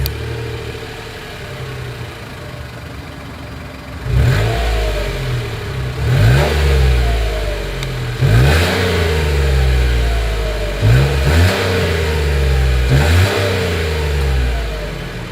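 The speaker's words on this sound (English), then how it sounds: "As always, here is that exhaust clip." A 2022 Mitsubishi Mirage G4 idles from behind, then its exhaust revs in about five sharp blips that rise and fall back to a steady idle, heard close with no talk.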